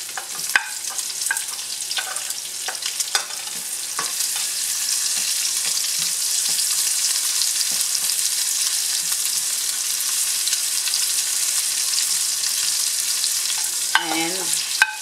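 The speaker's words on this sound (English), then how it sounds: "Now we add the shallot." Shallots sizzle steadily in a hot pan for shrimp and pork pinakbet, a continuous close frying hiss with a few brief stirring clicks and a louder scrape near the end, no talking.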